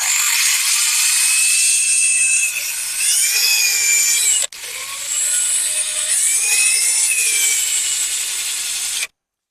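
A power drill with a bent bit whines steadily with rising and falling pitch, pausing briefly midway before grinding on, close and loud.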